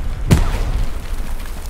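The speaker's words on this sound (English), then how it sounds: "Grenades!" A grenade explodes in the Hell Let Loose war game, one sharp booming blast followed by a decaying rumble, with no talk over it.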